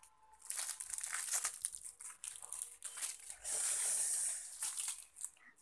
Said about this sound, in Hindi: ये टेप मेरे बाल में चिपक गया है